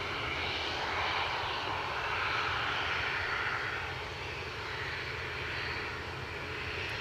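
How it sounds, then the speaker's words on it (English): Lauda airliner departing Edinburgh airport on a short intersection takeoff, a steady, loud engine roar that holds throughout with slight swells in intensity. "So Lauda holding at the intersection, going out short. First short departure of the day."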